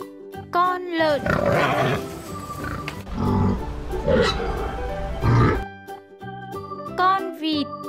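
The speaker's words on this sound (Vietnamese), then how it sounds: "Con lợn." A pig grunts and oinks loudly up close in a series of rough bursts, with squealing tones mixed in and no talk.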